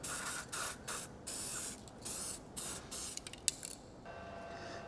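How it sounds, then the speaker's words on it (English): A ceramic weld spray aerosol can hisses in several short bursts onto a welding tool and nozzle, close and steady, with brief pauses between sprays and no talking. "And not forgetting to spray up inside the nozzle."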